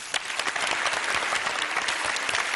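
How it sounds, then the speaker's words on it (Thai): Studio audience applause on a Thai children's television quiz show, a dense, steady burst of many hands clapping at close range, filling the whole moment with no voices over it. "ต้องปรบมือดังๆนี้ด้วยนะครับ"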